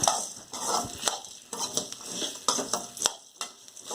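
Grated coconut is stirred in a hot kadai with the stove off for a Tamil garlic gravy. A spoon scrapes and clinks against the pan in uneven strokes, close up, over a faint sizzle, with no talking.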